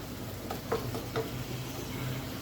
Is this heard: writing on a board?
no